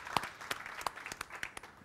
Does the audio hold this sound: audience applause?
yes